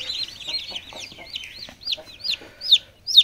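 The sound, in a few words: chicks and chickens on a poultry farm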